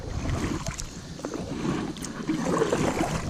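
Kayak paddle strokes dipping and splashing on a shallow river, soft rhythmic swishes and gurgling water close by, fairly quiet with faint wind.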